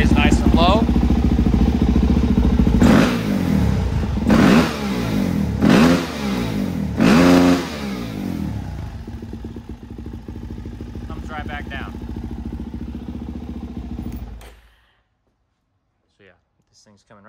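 A hot dirt bike with an FCR carburetor revs in several sharp quarter-throttle bursts, each rising and dropping back cleanly to a low idle, loud and close; the engine then fades and cuts out near the end.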